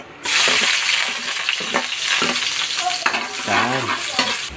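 Ginger sizzles in hot oil in a pan while cooking bopis, a loud, steady crackling fry with a spatula scraping and stirring through it now and then, close up.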